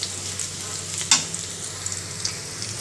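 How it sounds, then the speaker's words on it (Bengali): Oil frying in a freshly cleaned kadai, a soft steady sizzle with one sharp crackle near the middle and a few smaller pops, close and fairly quiet with no voices. "তেলে দিচ্ছি আমার পরিষ্কার করা কড়াইতে"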